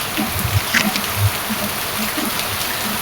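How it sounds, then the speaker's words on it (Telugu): Heavy rain pours down outside a house, blowing spray in indoors, a steady wash of hiss with scattered low patters and drips, moderately loud and with no voices. "ఒక్కసారి గుమ్మరిచ్చినట్టు అయిపోయింది ఇంట్లో కూడా జల్లు వచ్చింది"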